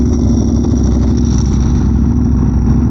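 A tuned Aprilia superbike engine roars loud and close with a sustained, buzzing drone, holding a fairly steady pitch, with a brief high burst near the end; distinct downshift blips are not clearly separated.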